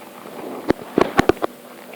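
Several sharp explosion bursts in a Minecraft survival game, a cluster of close, punchy blasts spaced irregularly over a couple of seconds against quiet background.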